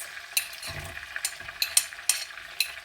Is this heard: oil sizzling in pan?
yes